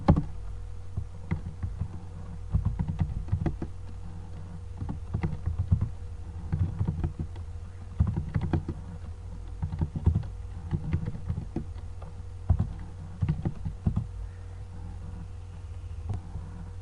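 Keys clatter on a computer keyboard while a command is entered, in short irregular bursts of close, dry taps separated by brief pauses, over a low steady hum, with no talking.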